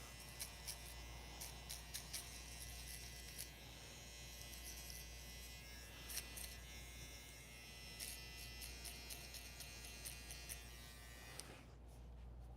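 A single-foil electric shaver buzzes steadily against skin close to the ear, a faint electric hum punctuated by brief clicks as it passes over stubble, with no one talking.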